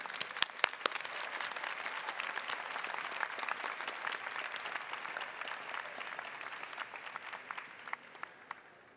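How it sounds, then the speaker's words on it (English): An audience at a university graduation hooding and diploma ceremony applauds steadily, dense clapping from a large crowd heard at a distance and sustained throughout, tapering slightly at the end. "Please join me in a round of applause for the Master of Medical Management students."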